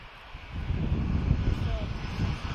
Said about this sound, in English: So we have an A321 Neo long range. He's off to New York.